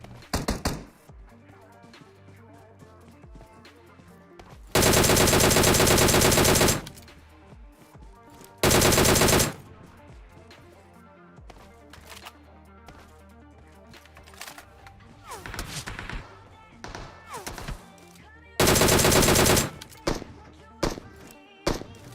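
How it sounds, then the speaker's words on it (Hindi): SKS rifle fire in the PUBG Mobile battle royale game, several loud bursts of shots at near range separated by quieter stretches of game ambience and footsteps. "तभी सामने वाले बर्न हाउस से एक बंदा SKS चला रहा होता है"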